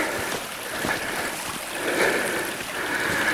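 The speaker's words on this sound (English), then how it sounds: "I hear literally nothing right now but the creek and birds chirping in the distance." A partly frozen creek flows with a steady, soft rushing and trickling wash, heard alone in a quiet, snowy Kentucky hollow after a blizzard.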